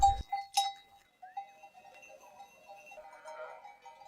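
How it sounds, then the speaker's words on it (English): A flock of nearly 600 sheep climbs toward the Javalambre peaks with their shepherd, giving scattered bleats, a sharp bell-like clank early on and a soft continuous jangle of bells, moderately close with no talk. "guide the herd of nearly 600 sheep up to the peaks of Javalambre"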